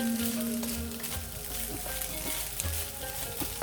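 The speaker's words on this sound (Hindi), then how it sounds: "इसको भी हल्का सा फ्राई कर लेंगे" Chicken frying in a pan for chimichangas, a steady close sizzle with occasional stirring scrapes, no talking.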